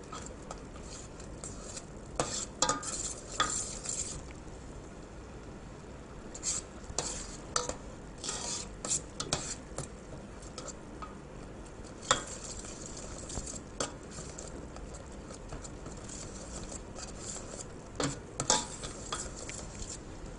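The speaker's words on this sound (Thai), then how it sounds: "คนไว้นะคะให้เนื้อหมูสุก" Pork being stirred in a frying pan until cooked: a steady soft sizzle with repeated scraping and clinks of a utensil against the pan, close and continuous with no talk.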